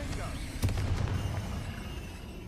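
A Confringo fire spell explodes in a Hogwarts video game, one sharp, loud blast with a bright crackling burst that rolls into a sustained rumble and hiss, under steady game sound.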